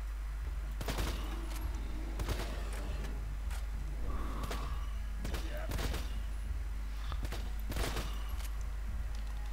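Sniper rifle shots in Borderlands 2, a series of sharp, loud cracks spaced a second or two apart over a steady low hum, with light game sounds between shots.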